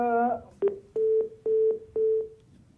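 A disconnected phone line during a live TV call: a brief tone chord, then a series of evenly spaced, repeating electronic beeps like a busy signal, moderately loud and clean.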